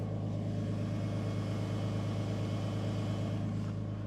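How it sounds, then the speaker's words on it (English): A 2018 Freightliner M2 service utility truck engine runs at a steady idle up close, a deep even rumble with no voices. "Truck starts right up, runs, drives, operates as it should."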